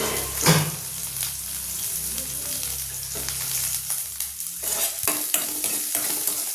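Mustard seeds and cumin crackle and sizzle in hot oil while a spoon scrapes and stirs the pan, producing a close, steady hiss with scattered sharp pops and clinks.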